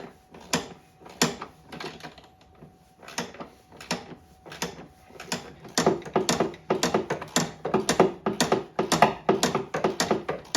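A 17 mm wrench tightens a snowmobile control arm bolt in a run of close, clicking ratchet-like strokes, sparse at first and then quicker and denser, with no talking.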